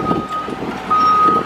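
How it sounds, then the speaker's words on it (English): A truck loaded with concrete pillars pulls into a driveway, its reversing beeper sounding repeatedly over a low engine rumble, close by with a voice talking underneath. "our truck with some concrete pillars pulling in the driveway right now"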